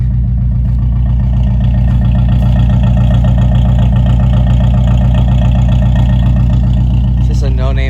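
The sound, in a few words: Acura RSX Type S engine idling, loud no-name exhaust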